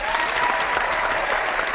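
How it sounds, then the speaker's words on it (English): Steady applause from an audience, a dense even wash of clapping at moderate loudness that holds without a break for the full length. "I need get the applause ready"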